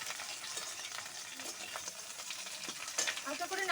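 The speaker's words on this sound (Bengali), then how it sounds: "ডাঁটাগুলো দিয়ে খুব বেশি ভাজবো না, হালকা করে একটু দু একটা নাড়াচাড়া করে নেব।" Moringa drumsticks are lightly stir-fried in a pan, giving a steady close sizzle with soft scraping stirs, and the frying grows a little louder toward the end.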